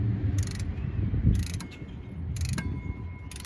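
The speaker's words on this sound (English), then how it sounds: "So we'll make sure we get our bolts tightened down." Ratchet clicks from tightening the water pump bolts on a 1999 Chevy Silverado 1500 with a 4.8 engine, heard as three short bursts of close, bright clicking over a low rumble of garage background noise.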